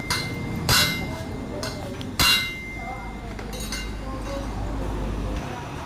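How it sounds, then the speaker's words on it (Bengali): A few sharp metallic hammer blows ring out while bending a motorcycle rear carrier in a workshop, two loud strikes and fainter taps spaced apart over a low background hum. "দেখেন কি সুন্দর করে বাড়ি দিয়ে বেঁকে দিল।"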